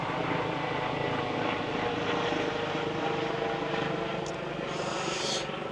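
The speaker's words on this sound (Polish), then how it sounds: "Helikopter" A rescue helicopter drones loudly and steadily overhead, its rotor and engine rumble filling the air without pause.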